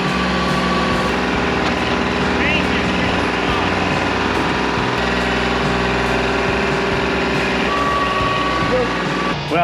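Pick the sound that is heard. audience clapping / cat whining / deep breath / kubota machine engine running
kubota machine engine running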